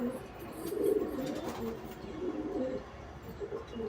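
An old Kaldama Mantas male pigeon coos in soft, low, repeated phrases at close range, with a steady murmur of background noise underneath.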